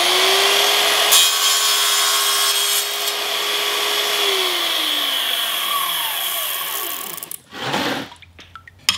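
A power saw cuts a miter in Schluter metal tile trim: a loud steady whine for several seconds that winds down as the motor stops, followed by brief clattering.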